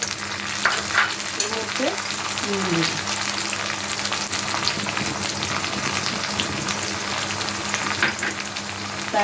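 Chopped tomatoes frying with browned onions in a pan, a constant moderate sizzle with occasional stirring scrapes, and a voice briefly speaking over it.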